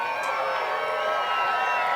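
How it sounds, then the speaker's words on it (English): Crowd noise at an ultimate frisbee match between the All-Star Ultimate Tour and Molly Brown in a tight game, a steady wash of distant cheering and murmur that holds level throughout without clear bursts. "The crowd is really getting into this game"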